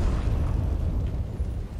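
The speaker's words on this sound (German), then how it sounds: "Oh nein, Explosion, Explosion." An explosion from exploding arrows in the video game Dark Souls 3 rumbles as a dense, loud low-end roar that fills the whole moment and fades slightly toward the end.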